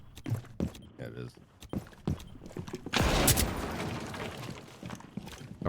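A sniper rifle fires in a competitive shooter video game, one heavy crack followed by a long roaring tail, with players talking before and after it.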